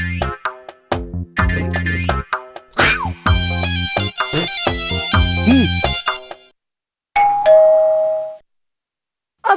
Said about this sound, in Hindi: कसरे ते काबर घेरी भेरी घंटी बजा के लुका जाथस